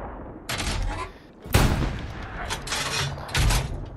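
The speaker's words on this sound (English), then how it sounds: "I'm going to keep an eye on this garrison here while I'm firing this artillery" Artillery firing in the World War II shooter Hell Let Loose: heavy booming blasts with rumbling tails, several shots in a few seconds, loud and close, with no talk over them.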